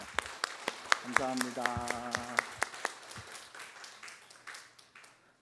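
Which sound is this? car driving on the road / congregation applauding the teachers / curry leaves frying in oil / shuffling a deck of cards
congregation applauding the teachers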